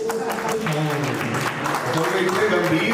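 Audience applause at a Hindi kavi sammelan poetry recital in Jaipur, Rajasthan: a steady wash of clapping runs throughout the clip, mixed with a prominent voice talking over it.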